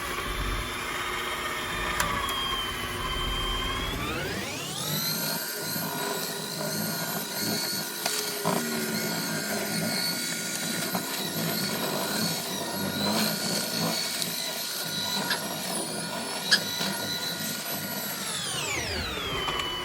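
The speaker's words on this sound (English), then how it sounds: "I'll turn the mixer down a little bit." An electric stand mixer churns hot maple syrup as it dries and crystallizes into sugar, a steady close mechanical whir with scraping texture that starts up after a few seconds and runs continuously before cutting off near the end.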